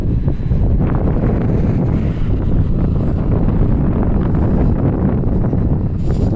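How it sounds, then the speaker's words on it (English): Loud, constant buffeting wind noise roars across a microphone outdoors at a higher elevation, dense and unbroken throughout with no other sounds standing out. "This is windy because it's a higher elevation up here."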